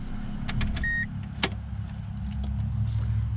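A small, worn-out car idles with a steady low rumble, a short electronic chime and a sharp click sound, and the engine note carries on low and even toward the end with no clear cut-off.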